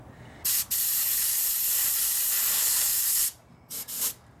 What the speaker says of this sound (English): little bit of compressed air there